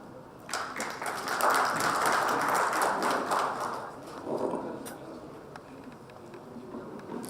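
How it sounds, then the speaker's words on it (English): Panelists at a higher-education technology conference are applauded by the audience, with clapping that swells quickly, holds for a few seconds, then thins into scattered claps and fades, heard from the room at moderate loudness. "So big round of applause for all our eminent panelists."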